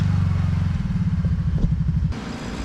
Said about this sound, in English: you can see how much quicker I can move the snow going with a ATV.